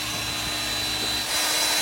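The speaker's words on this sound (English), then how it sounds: "Show everybody what it's like to drill through titanium." A CS Unitec magnetic drill bores through titanium on a Boeing 747, giving a steady broadband motor whine and cutting noise that grows louder and brighter near the end, with no talking.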